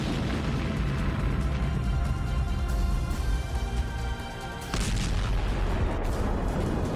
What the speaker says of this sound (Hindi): अंदर लगी आग ने टैंक में रखे गोलों को भी एक्टिव कर दिया और फिर इसमें ऐसा धमाका हुआ